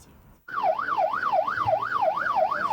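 Ambulance siren wailing in a steady rising-and-falling cycle, loud and close, sounding alone after a brief quiet start; the ambulance was donated to the commune of Ramongo in the Nando region.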